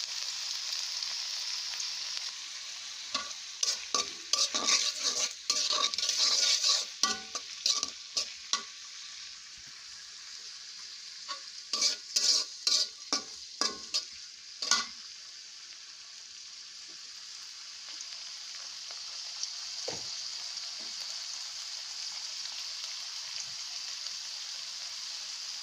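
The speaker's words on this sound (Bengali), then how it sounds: "চিংড়ি মাছগুলো প্রথম অবস্থায় আপনারা একটু ভেজে নেবেন" Prawns frying in a pan with sweet pumpkin nearby, a steady hiss of hot oil broken by bursts of stirring and scraping, close and fairly loud, with no talk over it.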